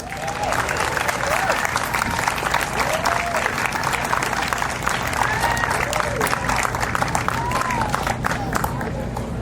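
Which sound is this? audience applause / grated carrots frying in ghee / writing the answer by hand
audience applause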